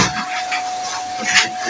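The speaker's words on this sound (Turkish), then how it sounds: "evi süpürüyor" Vacuum cleaner running while a house is being cleaned, a steady loud airy whoosh with rising and falling hiss as the nozzle moves across the floor.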